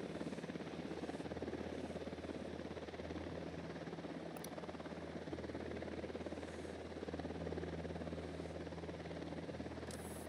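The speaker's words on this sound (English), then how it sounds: "Got a chopper." A helicopter flies in the video game Ghost Recon Wildlands, a steady low rotor thrum and buzz that holds constant at moderate distance. A few faint clicks sit on top, and no one talks.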